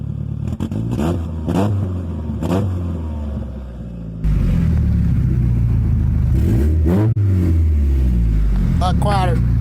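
A car engine runs with its exhaust removed as a temporary fix, idling roughly and then revving loudly and close, with someone talking over it.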